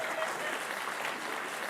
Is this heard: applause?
yes